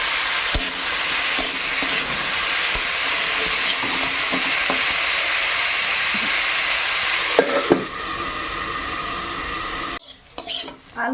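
Potatoes fry in a pan in a home kitchen while being stirred, a continuous loud sizzle with scraping stirs and utensil knocks, then a brief pause and a return of clatter near the end.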